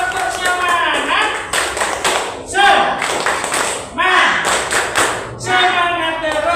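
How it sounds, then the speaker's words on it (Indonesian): A classroom group claps a rhythmic encouragement pattern in repeated bursts of quick, close hand claps separated by short pauses, with voices mixed in. "Tepuk semangat untuk Mbak Eka."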